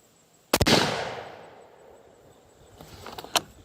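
A Weatherby Model 307 rifle in .257 Weatherby Magnum with a Hornady projectile load fires one loud, sharp shot at a range, followed by a long rolling echo and a few faint mechanical clicks near the end.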